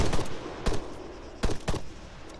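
Gunshots in the Altis Life game, a few sharp separated bursts of two or three shots each, moderately loud with quiet gaps between.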